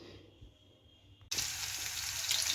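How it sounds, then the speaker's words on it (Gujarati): Paneer pieces frying in oil in a pan, a steady close sizzle that starts abruptly after a quiet moment and keeps crackling on with no talking. "આપણે આ પનીરને આ રીતે ફ્રાય થવા દઈશું"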